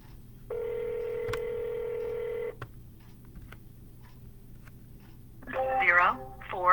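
A single steady telephone keypad tone sounds for about two seconds during cold calling to dial a number, followed after a pause by a faint recorded voice speaking.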